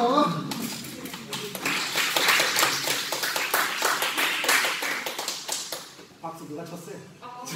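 A small group claps during a taekwondo promotion test, with sharp, fairly quick claps running for several seconds in a gym and tapering off near the end, with a brief voice after it.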